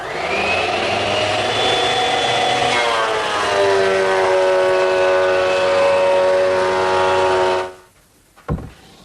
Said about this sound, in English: now I'll take it to my surface planer and true it out